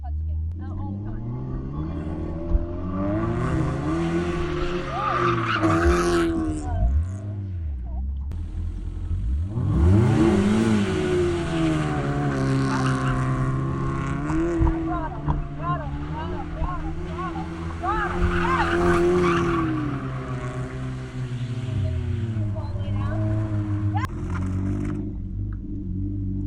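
A car drifts in circles with the engine revving and surging through repeated rises and falls, tires hissing and squealing at times, while people talk throughout over the engine noise.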